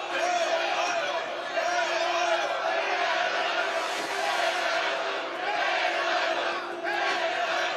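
A crowd in a Viking-era drama chants and cheers for Ivar, a dense, sustained roar of many voices rising and falling in waves, loud and unbroken from start to finish.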